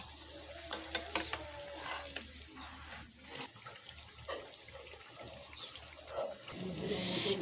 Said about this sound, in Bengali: এখন এগুলোকে আমি আস্তে আস্তে ভেজে নেব।